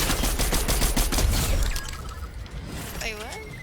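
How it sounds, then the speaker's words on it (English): Gunfire in a battle royale video game, a rapid burst of shots and shattering crackle in the first half before fading, with players talking over it and game effects following. "They're shooting."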